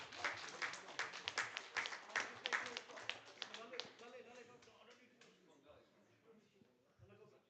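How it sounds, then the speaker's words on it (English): A press-conference crowd at a fight event claps in a quick, dense burst that peaks early and then thins out into scattered claps over several seconds, with no voices over it. "Round of applause, people."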